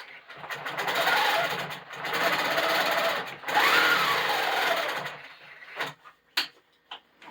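Long arm quilting machine stitching a biscuit quilt along a ruler, three rapid, buzzing bursts of stitching separated by brief pauses, then a few sharp clicks and knocks as it stops, heard up close without speech.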